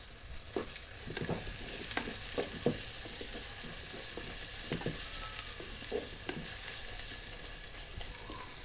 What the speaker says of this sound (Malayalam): ഇനി നമുക്ക് കറിവേപ്പിൻ്റെ ഇട്ട് കൊടുക്കാം